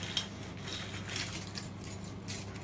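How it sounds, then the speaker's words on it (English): Keys on a lanyard jangle in a soft, continuous metallic rattle with a couple of brighter clinks, fairly quiet and close, with no talking. "I'm going to go ahead and grab some keys here really quick"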